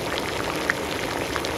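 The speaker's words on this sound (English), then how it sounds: "if the welding pool becomes too hot, you hear boiling water" Continuous bubbling and hissing like water at a rolling boil, steady and fairly loud with no voices: an auditory display signalling a 3D-printing welding pool running too hot.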